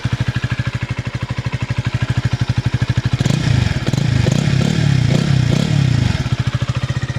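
Honda CB125R 2018 motorcycle engine on its stock exhaust, idling with a steady close thump, then revving up for a few seconds with a rougher, louder note before settling back to idle.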